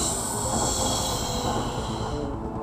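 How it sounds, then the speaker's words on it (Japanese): A train passing close by, a steady, loud rumble of wheels and rail noise with a hissing high edge that holds for the whole stretch and eases slightly at the end. "電車やね"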